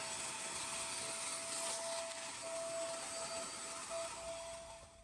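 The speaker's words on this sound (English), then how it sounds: "Now it's time to get the shop vac and vacuum" A shop vac roars steadily and loudly close by, vacuuming debris and styrofoam bits out of a garage floor expansion joint, with a constant high whine throughout before trailing off at the end.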